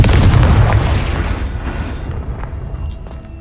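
A heavy explosive boom from the Confringo fire spell in Hogwarts Legacy, loud and close, its rumbling blast decaying slowly over a few seconds.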